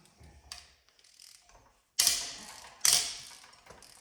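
Hand tool working head bolts out of an LS engine during teardown, with a quiet ratcheting click and creak building to two sharp, loud metallic cracks as the bolts break free, no talking.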